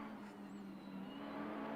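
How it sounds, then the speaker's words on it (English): Alfa Romeo race cars accelerating through the gears around a hilly circuit, a steady engine drone from a distance with a faint rising whine, no talking over it. "cars chattering away there as they go through the gears and accelerate around the course"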